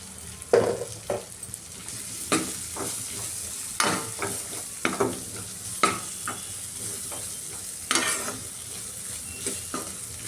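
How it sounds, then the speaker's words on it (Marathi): Potatoes stirred into a spiced tomato-onion masala for aloo methi sabzi, a steady close sizzle broken by repeated sharp scraping stirs of a spoon against the pan, with no talking. "आता मी इथे 3 बटाटे घेतले, ते ॲड करते."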